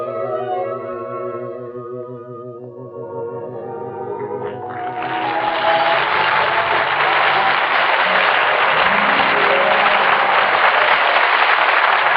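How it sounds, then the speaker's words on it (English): Studio audience applause for a singer on a 1942 radio comedy show swells in after his singing fades, a dense, steady roar of clapping that holds loud to the end. "George, I heard all that applause outside"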